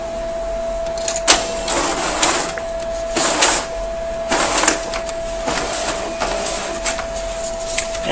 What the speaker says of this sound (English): so I'll go ahead and put that in my feeder